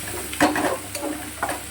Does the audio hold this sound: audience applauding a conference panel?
no